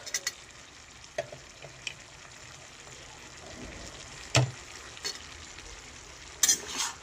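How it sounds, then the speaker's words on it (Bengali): Mixed vegetables with shelled peas frying in a pan are stirred, soft sizzling under scattered scrapes and clinks of the spoon against the pan, fairly quiet and close with no talk. "ভালো করে আমি এগুলোকে মিশিয়ে দিচ্ছি"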